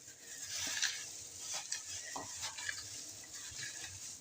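Onions and spices, including cinnamon, are stirred in a hot pan for a potato tray bake, giving soft, quiet scraping strokes over a faint sizzle.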